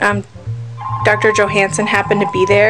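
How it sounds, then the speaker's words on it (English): A mobile phone rings nearby with a steady repeating electronic tone, starting partway through and continuing under a man's speech in an interview about paleoanthropology. "Oh my gosh, that's my phone."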